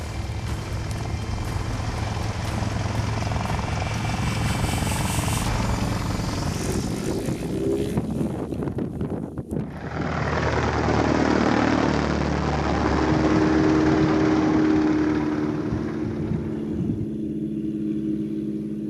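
A bush plane or similar aircraft arrives at a remote Alaskan hunting spot near Stephan Lake Lodge, a loud continuous engine drone that shifts in pitch midway and then settles into a steady hum with a tonal whine.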